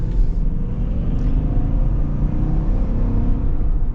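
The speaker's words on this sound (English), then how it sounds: "We're going to be getting our acceleration here in the Z71 Suburban." A 2021 Chevy Suburban Z71 accelerates with a loud, steady low engine rumble and road drone heard from inside the cabin, building evenly with no speech.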